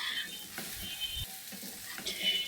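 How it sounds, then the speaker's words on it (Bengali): Eggplant slices frying in plenty of oil in a pan, a soft steady sizzle close by with a few scrapes as the slices are turned, no voices. "বেগুনটাকে আমি উল্টিয়ে দিচ্ছি যাতে ভালো করে ভাজা হয়।"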